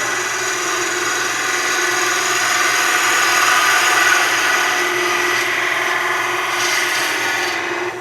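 A bowl gouge cuts across the end of a spinning workpiece on a wood lathe, giving a continuous loud, even rasping hiss with a faint steady motor hum beneath, unbroken for the whole stretch.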